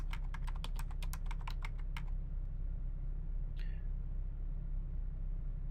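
Computer keyboard keys pressed in a quick run of about a dozen sharp clicks over a low steady hum, then quiet apart from one brief later sound.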